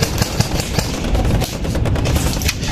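Machine gun fire rattles in rapid, continuous bursts during a skirmish game, loud and close, with dense overlapping shots filling the whole stretch.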